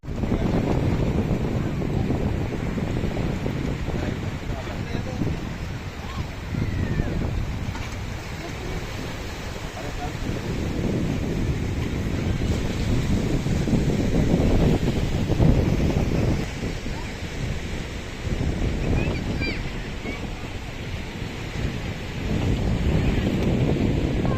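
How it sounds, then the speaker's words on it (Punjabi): Sea waves break on an Italian shore in gusty wind, a continuous roaring wash with swelling surges, the wind buffeting the microphone throughout. "ਜਮਾ ਛੱਲਾ ਮਾਰਿਆ ਸਮੁੰਦਰ ਨਜ਼ਾਰਾ ਆ ਗਿਆ"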